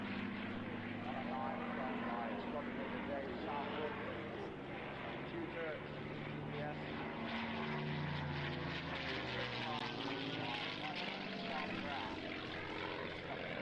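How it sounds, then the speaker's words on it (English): Propeller engines of a Lancaster bomber drone steadily from old tape footage, a continuous loud multi-engine rumble with tonal hum, overlaid with voices talking throughout. "My favourite plane, sorry, is the Lancaster Bomber."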